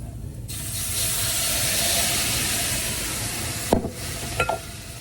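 Chopped tomatoes go into a hot pan for goat cheese ravioli and set off a loud, steady sizzle and hiss, followed near the end by a few sharp spoon or pan knocks.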